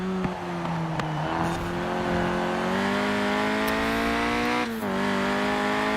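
A 1991 Peugeot 205 Rallye engine driving in Forza Horizon 4, a steady, loud, buzzing engine note that holds and climbs gently, with a short dip as the throttle shifts.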